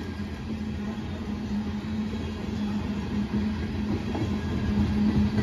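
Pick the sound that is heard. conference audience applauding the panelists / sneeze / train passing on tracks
train passing on tracks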